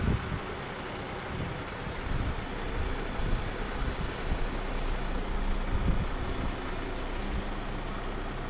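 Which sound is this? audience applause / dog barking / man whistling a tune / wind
wind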